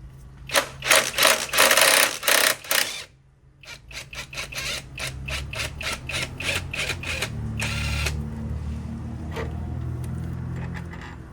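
A hand tool works loose a transmission bolt on a second-generation 2002–2006 Honda CR-V during a clutch job: close, rapid rhythmic clicking in loud bursts, then a longer stretch of quicker, fainter ratcheting that fades into low background noise.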